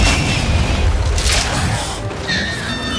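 A frag grenade blows up in the Gears 5 shooter game, a loud, heavy rumbling boom that fills the whole stretch, with whooshing debris and other battle noise layered on top.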